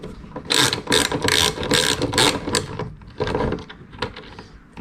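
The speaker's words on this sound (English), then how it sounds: "So we're just going to screw it straight on." Nuts and spacers being screwed onto a trolling motor mount give a run of rapid, close ratcheting clicks in bursts, pausing briefly between turns.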